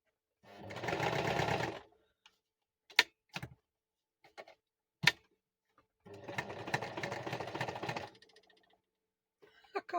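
A sewing machine stitches a junk journal cover with lace pockets. It runs in two close bursts of rapid whirring, and sharp isolated clicks and handling ticks fall between them.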